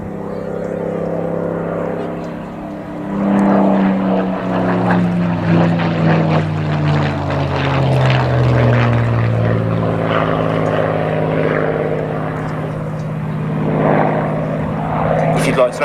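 A Mark 9 Spitfire in desert camouflage flies a display at Cosford. Its piston engine holds a steady, loud propeller drone that sweeps lower in pitch as it passes, while a commentator talks over it.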